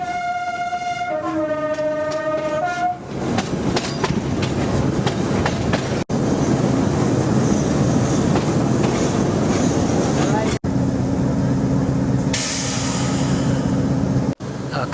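A train of Madagascar Railways rolls into a junction station, its horn sounding at the start, then a loud continuous rumble of wheels on rails with rhythmic clickety-clack from the carriages, close and steady throughout.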